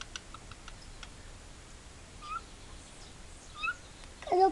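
A small cat gives a few faint, brief meows near the end of a quiet indoor room, with light ticking and tapping sounds earlier.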